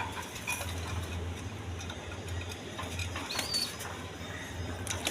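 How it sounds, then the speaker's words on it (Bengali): A pair of Giasulli pigeons coos with low, steady rumbling phrases through a constant close background, with occasional faint wing rustles and chirps and no talk. "দর্শক এইখানে এক পেয়ার গিয়াসুল্লি কবুতর আছে"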